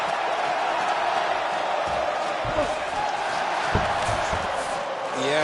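Arena crowd at an AFL mixed martial arts fight roars and cheers steadily as the fighters scramble back to their feet, a loud continuous wash with a few sharper shouts and thuds.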